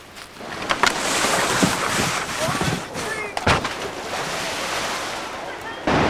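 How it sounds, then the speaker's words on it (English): Whitewater rushes through Fowlersville Falls, the first rapid on the Moose River in New York State, as a loud, continuous broadband roar with voices heard over it. "It's the first rapid on the Moose River here in New York State."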